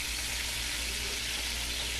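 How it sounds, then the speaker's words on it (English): Food sizzles steadily in a frying pan at home, a continuous close hiss with no voices over it. "Whoa, I hear some sizzling."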